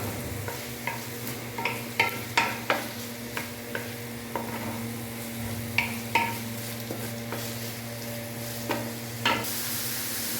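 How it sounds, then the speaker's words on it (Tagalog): Onions sautéing in a pan for tofu sisig, a steady sizzle under a low hum, broken by repeated sharp clinks and scrapes of a spatula stirring at an uneven rhythm, close by, with no talking. "Igisa natin ang konting sibuyas."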